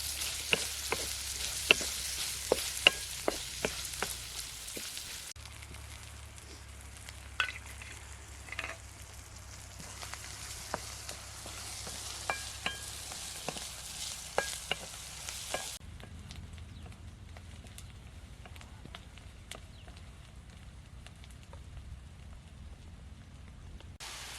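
Onion and tomato frying in a pan in a village kitchen, a steady bright sizzle with frequent sharp clicks of stirring, continuous and close, changing tone partway through.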